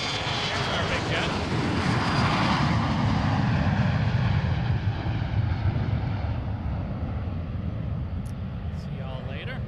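A private jet departs Boeing Field with a loud, sustained engine roar that builds and then slowly fades into the distance as the aircraft climbs away.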